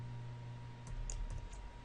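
Code being typed on a computer keyboard: a short, quick run of light key clicks lasting under a second, close and fairly quiet, with no voices.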